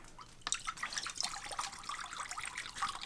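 Fresh water trickles and drips into a dog's bowl indoors, a light splashing stream with a sharper splash near the start, continuing steadily at close range.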